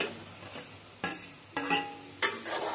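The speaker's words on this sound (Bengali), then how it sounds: "আলু দিয়ে একটু কষাই" Potatoes stir-fried with spices in a pan: a spatula scrapes and stirs in several distinct, evenly spaced strokes over a soft, steady sizzle, close and fairly quiet.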